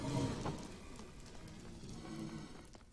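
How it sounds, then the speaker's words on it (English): Steady rain patters in Minecraft, a dense, even hiss of falling drops with no breaks, heard alone and fairly faint. "It sounds like it's just raining."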